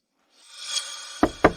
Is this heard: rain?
no